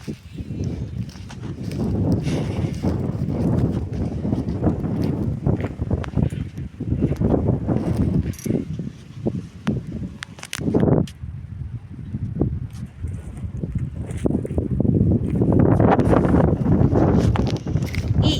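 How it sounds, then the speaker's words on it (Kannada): Strong wind blows outdoors near a village house, roaring and buffeting the microphone in continuous loud gusts. "ಗಾಳಿ ಅಂತೂ ಗಿಡ ಮುರಿದು ಮನೆ ಮ್ಯಾಗ ಬೀಳ್ತಾವೇನೋ ಅನ್ಬೇಕ್ರಿ ಆ ರೀತಿ ಗಾಳಿ ಬಿಟ್ಟೈತೆ"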